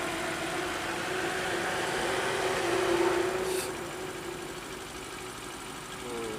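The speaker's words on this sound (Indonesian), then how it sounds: "Nah, ini dia truk Fuso putih kerudung hitam sudah lewat." A white Fuso truck rolls past on a road at a toll interchange, its engine a steady droning rumble that swells briefly as it goes by, then eases back into continuous traffic noise.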